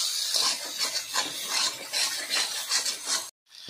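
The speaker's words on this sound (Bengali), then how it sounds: "এবার ভেজে রাখা আলু দিয়ে দিই। মশলার সঙ্গে আলু ভালোভাবে মিশিয়ে নেব।" A utensil stirs fried potatoes into spiced masala in a pan for a shol fish curry, making repeated rhythmic scraping and rasping strokes, close and steady, before stopping abruptly.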